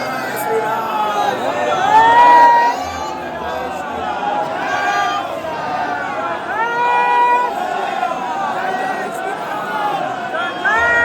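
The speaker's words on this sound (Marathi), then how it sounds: "खूप खूप खूप म्हणजे खूप गर्दी आहे इथे तुम्ही पाहू शकता" Dense crowd noise at a busy temple, a continuous babble of many voices with occasional louder calls and shouts, steady and close throughout.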